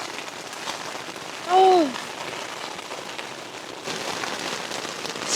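Heavy rain drums hard and constantly on a tent during a thunderstorm, a dense close wash of drops. A short voiced exclamation rises over it near the middle, and the downpour grows louder toward the end.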